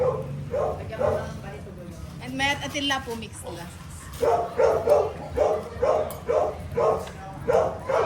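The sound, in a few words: dogs barking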